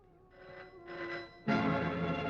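A telephone rings in a Hindi action film scene, two short bell bursts followed by a louder, sustained ring, heard alone without talk.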